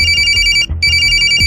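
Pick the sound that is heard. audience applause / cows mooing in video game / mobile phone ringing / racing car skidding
mobile phone ringing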